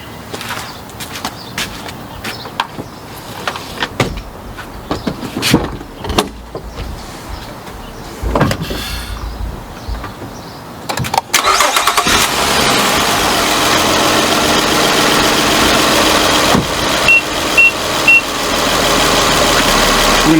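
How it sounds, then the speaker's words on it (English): A car engine cranks and catches around the midpoint, then settles into a steady, loud idle that carries on alone to the end, following a stretch of scattered clicks and handling noises. "Now I'm going to start the vehicle."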